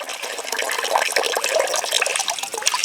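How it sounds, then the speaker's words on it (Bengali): Soaked puffed rice being lifted and strained out of a bowl of water, giving continuous close splashing and trickling with small irregular drips throughout. "এবার জল থেকে ছেঁকে তুলে নেব।"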